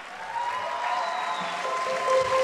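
A school audience claps for a student comedian introduced at a youth comedy contest, a steady, moderately loud wash of applause lasting a couple of seconds.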